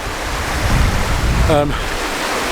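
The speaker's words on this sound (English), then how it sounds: "Apologies for the noise of the water running next to me." A stream runs right beside a landscape photographer on a path up to a lake, a loud, steady rush of water, with a brief voice-like sound in the middle.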